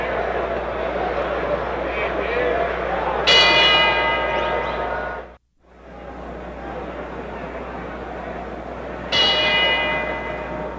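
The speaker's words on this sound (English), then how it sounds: "The bell for round four as again we watch Foreman come out of his corner against Peralta." A boxing ring bell for round four in the George Foreman versus Gregorio Peralta fight rings twice. Each strike rings bright and then decays, over steady arena crowd noise and a commentator talking.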